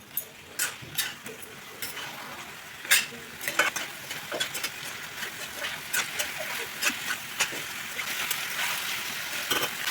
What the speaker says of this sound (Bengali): এবার ভালো করে আবারও কষিয়ে নেব